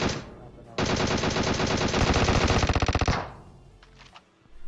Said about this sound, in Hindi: अब मैं बॉट फायर देता हूं